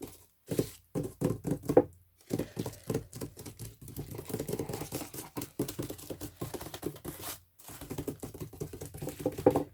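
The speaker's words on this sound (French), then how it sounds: "je veux du froissé." Paper crumpled by hand while making a Harry Potter grimoire box gives close, crackly bursts of rustling in irregular clumps, broken by short silent pauses, with no one speaking.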